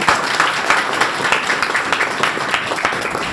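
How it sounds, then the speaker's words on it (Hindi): An audience claps and applauds loudly at a live talk in India, a dense, continuous patter of many hands lasting the whole stretch at an even level. "एक बार जोरदार ताली आप सभी लोगों के लिए।"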